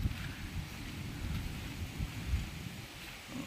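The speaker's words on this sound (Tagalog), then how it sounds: "Medyo malakas yung hangin." Strong wind blows steadily outdoors near trees in cool-season monsoon weather, a constant roaring rush with heavy low buffeting against the microphone and no clear pauses.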